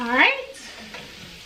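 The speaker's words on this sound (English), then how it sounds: "we're gonna cook the floury taste out of the flour" Flour and onion cook in a pan for pot roast, a brief frying sizzle and stirring heard close up, with a voice speaking a couple of words over the start.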